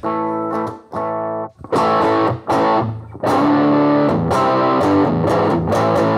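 Electric guitar played through a heavy Marshall-style overdrive distortion pedal, chords with brief gaps, then a sustained gritty riff, loud and close.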